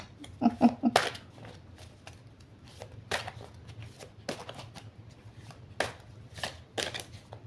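A deck of playing cards is cut and handled on a table, producing a handful of crisp, papery snaps and riffling flicks spaced irregularly over a quiet room background, close by.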